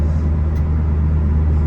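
Low, steady rumble of a turbocharged 2G DSM car engine running continuously at close range, with no voices.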